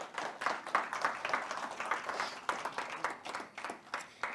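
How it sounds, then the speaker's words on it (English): Crowd applause at a blockchain summit gathering, steady clapping from many hands at moderate distance, sustained for several seconds without voices on top. "Round of applause for our incredible artist"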